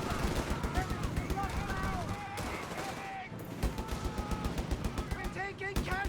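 A .50 cal machine gun fires in rapid bursts in the Company of Heroes 3 strategy game, with a stuttering rattle running throughout under steady commentary from a caster.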